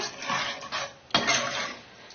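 A spoon scrapes and stirs through a pot of tamarind fish curry base: a few rough, scratchy strokes with one sharp clank near the middle. It is close and moderately loud, with no talking.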